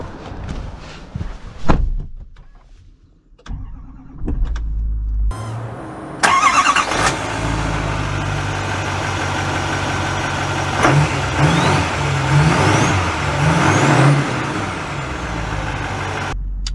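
Chevrolet Silverado HD pickup truck engine cranking and firing up after a few clunks and clicks, then settling into a steady loud idle with some revving swells, heard close without talk.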